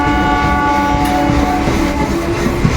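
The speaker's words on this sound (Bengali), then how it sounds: "বনগা লোকাল চলে যাচ্ছে এখন পাশ দিয়ে বনগা যাচ্ছে এই ট্রেনটি" A Bongaon local train passing close by, a loud, steady rumble of rolling carriages with sustained horn-like tones running through it.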